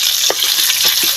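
Pork sizzles steadily as it fries in its own rendered fat for a pepper-paste dish, a dense close crackle with a few soft stirring knocks, no voices.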